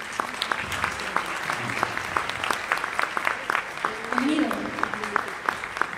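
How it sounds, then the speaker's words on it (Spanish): A conference audience applauds to welcome a speaker, with scattered individual claps standing out over a steady wash of clapping and a brief murmur of voices partway through. "Un fuerte aplauso, por favor."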